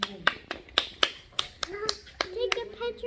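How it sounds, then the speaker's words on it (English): A young child claps her hands in a series of about eight sharp, slightly irregular claps, close by, with a voice murmuring softly underneath. "Clap your hands together."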